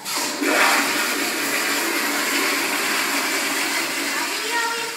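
A toilet flushes with a sudden rush of water that swells into a loud, sustained gurgling swirl and then slowly tapers off, close by in a small bathroom.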